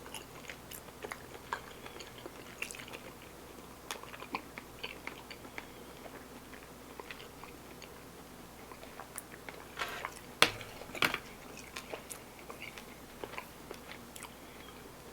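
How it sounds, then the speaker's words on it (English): Someone chews beef from a Chinese takeout meal close to the microphone, with soft irregular wet chomps and an occasional sharper bite through fairly quiet surroundings. "I'm sorry I'm chewing this much."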